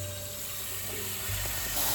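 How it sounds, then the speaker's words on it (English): Warm water is poured from a tap over chestnuts in a bowl, a continuous close rushing splash that grows fuller and louder toward the end, no talk. "Put some warm water."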